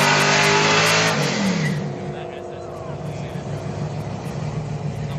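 At a Friday night street car gathering, a race car with a Mopar competitor accelerates hard in a loud, close roar that fades quickly into a lower, distant engine drone.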